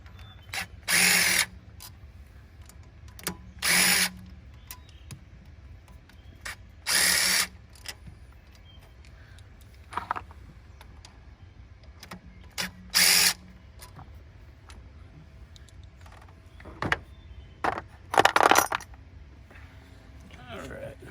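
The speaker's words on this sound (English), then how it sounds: "Remove our 4 bolts, and then we'll see it should lift right off." Short bursts from a power tool, likely a drill or impact driver, back out bolts on a Cummins 6.7 diesel EGR part, five or six loud, separate runs spaced by quiet gaps, with someone speaking now and then.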